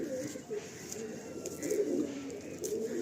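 A tournament-quality Madrasi pigeon in a loft gives soft, low cooing calls, quiet and repeated, over a faint background hum with a few light chirps.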